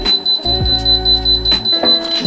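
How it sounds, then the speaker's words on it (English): A Vevor hat press timer gives a series of short, sharp electronic beeps in quick succession, close and clear with no talking. "it's gonna beep after that, and it happens automatically"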